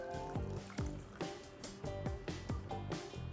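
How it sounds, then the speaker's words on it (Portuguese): Water is poured into a pan of meat and tomato sauce for an aubergine parmigiana lasagne, a close, steady gurgling pour with repeated glugging pulses throughout. "Agora eu vou colocar água,"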